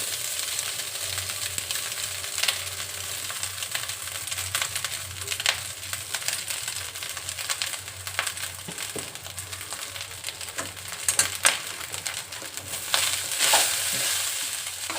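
Cooked rice sizzling and frying in a pan for aloo kofta rice, with a spoon stirring and scraping through it in steady bursts, fairly close and continuous, no talking.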